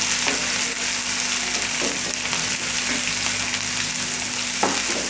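Finely chopped onions frying with cumin and curry leaves in oil for okra bhaji, a dense, loud, continuous sizzle with faint occasional stirring taps beneath it.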